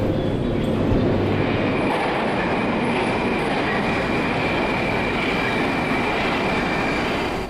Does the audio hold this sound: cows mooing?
no